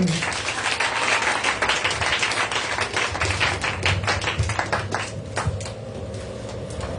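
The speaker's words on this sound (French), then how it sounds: "Alors qu'il acclame pour moi le Seigneur." A church congregation applauds during a Sunday praise and worship service, with dense, steady clapping, some sharper individual claps, and indistinct voices mixed in throughout.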